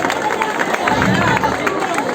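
A crowd at an outdoor tribute in Pego applauds amid lively chatter and cheering, the clapping blended into dense nearby babble.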